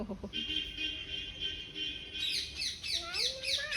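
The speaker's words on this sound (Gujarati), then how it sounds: "પોપટ પણ બોલે છે" A parrot calls near a well during a family picnic, sharp raspy squawks and rising chirps that grow busier toward the end, with people talking underneath.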